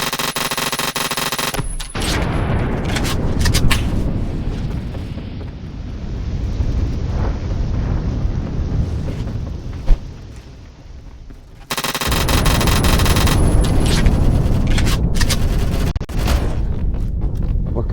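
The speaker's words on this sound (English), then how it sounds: "The explosion isn't perfectly instant across the whole material. It's a spreading shockwave of detonation." A cardboard sheet detonates with an explosive blast, and thick roaring noise bursts out across the whole stretch. A loud crack lands partway through, and the roar swells again near the end.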